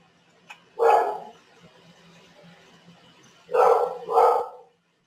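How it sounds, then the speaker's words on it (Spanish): A dog barks in the background, one bark and then two more in quick succession a few seconds later, fairly loud against a quiet room. "tengo un ladrido de un perro por detrás y me está interrumpiendo"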